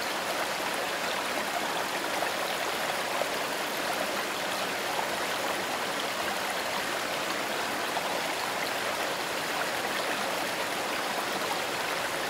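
Mountain stream running full with heavy mid-June snowmelt, a steady broadband rushing and gurgling flow heard alone at moderate level throughout, with no voices.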